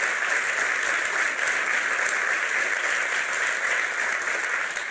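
Steady, dense applause from a television talk-show studio audience, loud and continuous without a break for about five seconds, with no speech over it.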